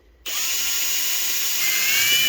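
A power drill drives screws into a wooden knife handle on a modified Opinel No. 9, starting abruptly with a steady, loud whirring whine that holds and rises slightly, close up and without talk.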